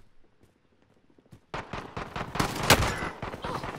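Gunfire in a first-person shooter match after a quiet stretch, a loud clustered burst of sharp shots with footstep-like clatter, near and intense for the last couple of seconds.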